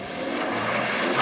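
A Rolls-Royce car drifts after a handbrake pull, giving a brief, continuous broadband rush of engine and tyre noise that swells slightly toward the end.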